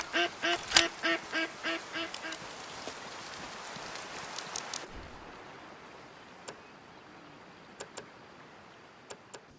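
Waterfowl calls in the hunting video game Way of the Hunter, a rapid loud series of about eight nasal duck quacks, then a quieter stretch with a few isolated sharp clicks.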